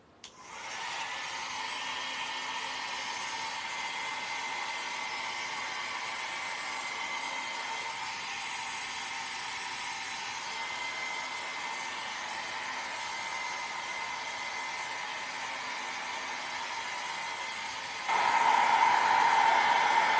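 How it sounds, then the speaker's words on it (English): A hair dryer set on low blowing alcohol ink from Copic marker refills across a surface, making a steady continuous whooshing hiss that grows slightly louder near the end. "push it with the hair dryer on low"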